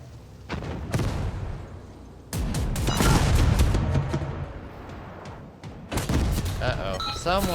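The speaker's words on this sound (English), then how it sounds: "someone's shooting at us" Gunfire aimed at the player's tank in the tank-building game Ramshackle, heavy bursts and booming impacts in clusters with brief gaps, mixed with game noise and talk over it.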